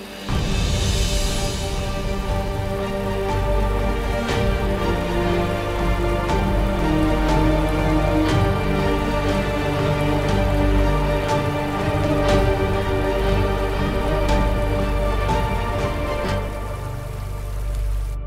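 Steady rain pouring down, a dense continuous hiss with scattered louder drops, moderately loud and unbroken throughout.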